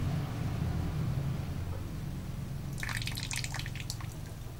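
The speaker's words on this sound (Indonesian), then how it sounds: "Kita coba buang airnya dulu." Water poured off a container during processing of iron sand, a close trickling and splashing that starts partway through over a low steady background hum, with no talking.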